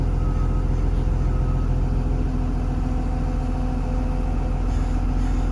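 A small engine on a KBR 925 idles steadily with the transmission in first gear, making a continuous low hum with faint harmonic whine and no noticeable change in pitch, with no speech over it.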